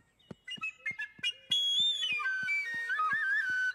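Toy whistle in a children's cartoon, blown in several short high-pitched toots that swell into a longer warbling whistle alongside light music, no talking.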